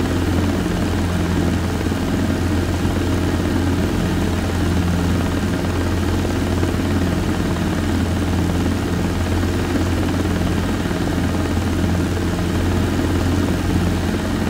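A Robinson R22 light helicopter in flight, heard from inside the cabin as a loud, constant rotor and engine drone that stays steady throughout with no talk.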